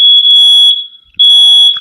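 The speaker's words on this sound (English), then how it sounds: "Is that my smoke detector?" A smoke detector shrills in two loud, piercing high-pitched beeps, each lasting most of a second with a short silent gap between them, sounding indoors during a fire drill.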